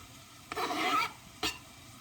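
Onion and garlic drop into a pan of lean ground meat, giving a short burst of sizzling and stirring followed by a second brief scrape, close and fairly quiet.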